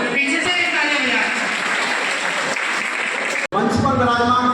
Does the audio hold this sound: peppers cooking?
no